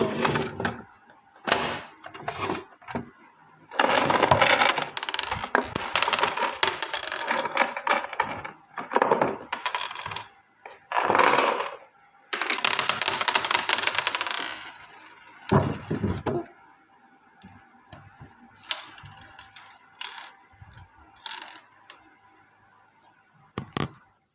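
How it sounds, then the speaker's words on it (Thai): Coins drop and rattle out of a toy cat coin bank in repeated bursts of close metallic clattering and shaking, separated by brief quieter pauses. "ก็จะมีเหรียญกับกุญแจอยู่ข้างใน"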